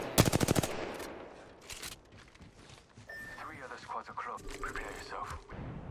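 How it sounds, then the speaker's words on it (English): Gunfire from the battle royale shooter Apex Legends during a competitive esports match: a rapid burst of shots at the start, followed by scattered distant pot shots and in-game effects, with a commentator talking throughout. "Couple of little pot shots again coming through from Golden Sage."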